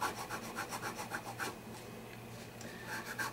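A file rubbing across the frets of a Brazilian rosewood guitar during a tune-up, heard as a steady series of short rhythmic rasping strokes, close and fairly quiet, easing off partway through with no speech.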